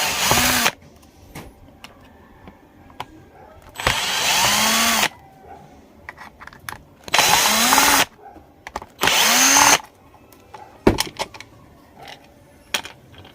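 A cordless impact drill whirs in short bursts of a second or so each, spinning screws out of a battery pack. Quiet clicks and handling noise fill the gaps between bursts.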